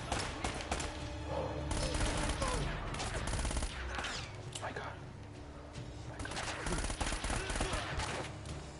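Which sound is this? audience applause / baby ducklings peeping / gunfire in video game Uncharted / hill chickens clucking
gunfire in video game Uncharted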